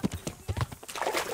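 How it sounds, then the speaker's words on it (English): Hooves of a horse in the medieval game Kingdom Come: Deliverance, a quick run of clip-clop steps close by, heard over game ambience. "Where is my horse?"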